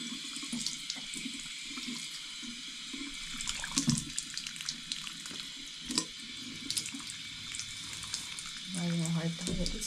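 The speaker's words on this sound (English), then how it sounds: "And then I'm just gonna wash my face." A bathroom tap runs while someone washes their face at the sink: uneven splashing and trickling water with scattered louder splashes, and a faint voice in places.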